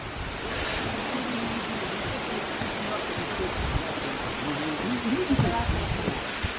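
Cascading waterfalls beside a countryside walking path in remote Russia give a steady, broadband rush of falling water that fills the whole stretch, with a faint voice briefly audible beneath it.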